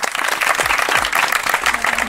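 A fan crowd at a Marvel quiz event in Thessaloniki bursts into brief, loud, close applause, many hands clapping densely throughout.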